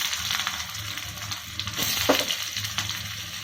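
Ginger hits hot oil with mustard in a pan for ginger chutney, giving a close, steady sizzle with a few brief stirring clatters and pops, and no voices.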